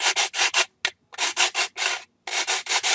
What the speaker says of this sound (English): to make sure that this part is not sharp, I'm going to use the emery board